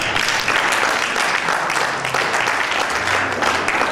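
Church congregation applauding, a dense, steady wash of clapping from many hands lasting several seconds, with faint voices mixed in.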